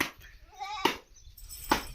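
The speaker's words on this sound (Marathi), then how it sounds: "हे बघा आपल्या शेळ्या आहेत" Goats on a village goat farm bleat in two short, wavering calls, close and fairly clear over light background noise.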